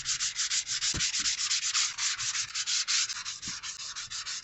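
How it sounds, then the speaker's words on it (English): A baking sheet is scrubbed clean in fast, rhythmic back-and-forth strokes, each producing a harsh abrasive rasp, close up and continuous, with a couple of faint knocks in between. "Just for about 1 minute and then start scrubbing"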